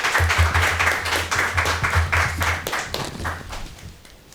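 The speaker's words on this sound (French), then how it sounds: "On l'applaudit." An audience claps for a coach: a burst of rhythmic handclapping from a group at moderate loudness, with a low hum underneath, tapering off toward the end.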